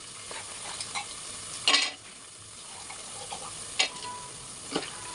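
Onions frying in a pan while being stirred, a steady low sizzle broken by a few sharp scrapes and clinks of a spoon against the pan, close and fairly quiet.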